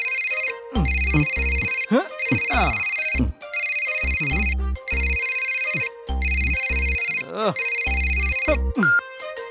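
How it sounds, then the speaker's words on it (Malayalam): A home telephone in an animated scene rings in a regular series of bright, loud electronic bursts, with brief vocal sounds in the gaps. "ആരാ ഈ ഫോൺ വിളിക്കുന്നേ?"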